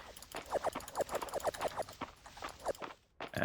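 Horse hooves clip-clop at a brisk, steady walking rhythm in the farming video game Fields of Mistria, close and distinct, ending with a short pause and a final thud.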